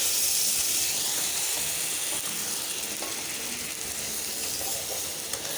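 Spice paste of ginger, garlic, cumin, turmeric, coriander, chilli and salt hissing steadily in a pan after water is added, a constant bright steam-like sizzle with faint clicks.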